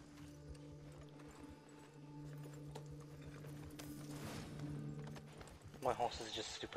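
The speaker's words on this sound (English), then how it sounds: "My horse is just super slow" Hooves clatter in rhythmic clip-clop as a horse travels in the video game Red Dead Redemption 2, mixed under game music and sounds, with a brief louder burst near the end.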